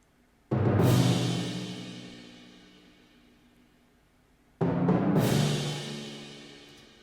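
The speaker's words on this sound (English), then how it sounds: "what I thought would be good would be some timpani, big old drums, and some cymbals." A prog rock percussion part of timpani, big drums and cymbals, two heavy crashing hits about four seconds apart, each swelling out and ringing into a long decaying wash, moderately quiet with no voices.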